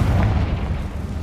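Confringo spell explosion in the Hogwarts Legacy video game, one short, heavy booming blast with a deep rumbling low end that fades slightly over about a second.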